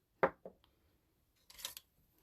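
Scissors cutting a scalloped rectangle of paper, heard as a few short, close, crisp snips followed by a brief rustling slide of paper, with quiet gaps in between.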